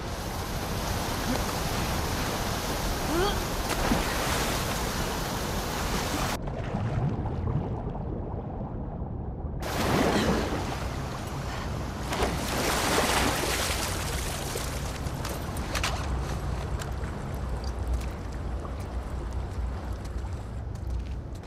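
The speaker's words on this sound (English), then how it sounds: "the player was faced with a fast-flowing torrent of water they couldn't cross" A fast-flowing torrent of water in the sewers of The Last of Us Part 2, a steady loud broadband rush that briefly dulls and muffles before surging back, continuing without pause and with no voices.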